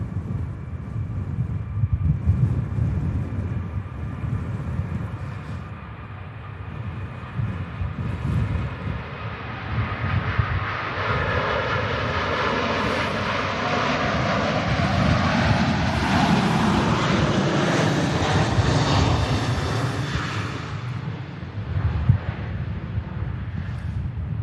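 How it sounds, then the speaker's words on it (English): An Emirates Airbus A380 rolls for takeoff at Manchester Airport during a storm, its engine roar swelling and rising in pitch from a distance, mixed with gusty wind buffeting the microphone. "Emirates A380 heading back to Dubai on the roll"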